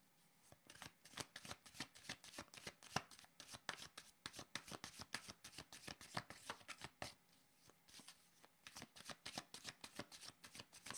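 Tarot cards being shuffled in steady, rapid riffling flicks that run continuously for several seconds, close and fairly soft, with no talking.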